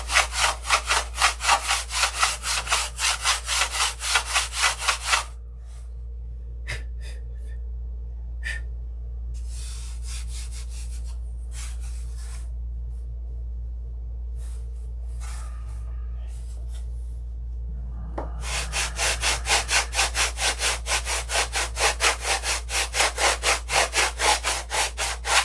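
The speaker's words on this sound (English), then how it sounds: "I was sanding this way. I need to sand this way." Rhythmic back-and-forth sanding strokes on a model airplane fuselage, loud and close, stopping for a long quiet stretch with faint handling noises before the strokes resume.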